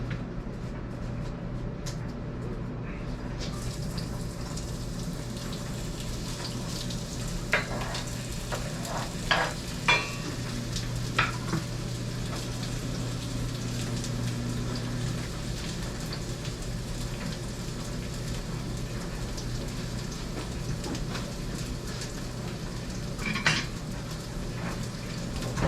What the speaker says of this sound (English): that's sauteing up